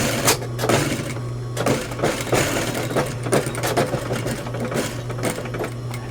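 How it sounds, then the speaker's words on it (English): A sewing machine edge stitches a shirt cuff to a sleeve, a loud, close, rapid mechanical chatter with a steady hum, running continuously with slight pulses in speed. "Again, I'll edge stitch it, just a hair past it"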